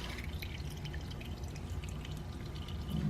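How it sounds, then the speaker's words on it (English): Engine oil drains from the oil filter housing of a VW 1.4-liter four-cylinder engine during an oil change, a faint, steady trickle and patter of liquid heard close by with no talk. "Try to drain as much oil as we can out of it."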